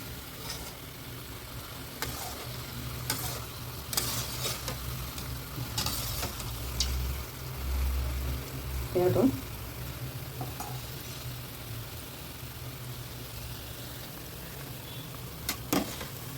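Oil sizzles softly and continuously as sweet bondas made from sour dosa batter fry, with faint occasional clinks and bubbling, fairly quiet and steady throughout.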